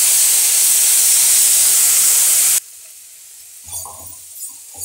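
Banana blossom sautés in oil with a loud, dense sizzling hiss that cuts off abruptly halfway, leaving near quiet with a few soft stirring bumps.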